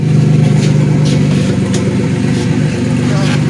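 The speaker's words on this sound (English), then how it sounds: "We're gonna start it up with open downpipe," A 1999 Buick Regal GS engine runs with an open downpipe on a 3-inch into dual 3-inch straight pipe, a loud, rough, throbbing close-up rumble with slight revving swells.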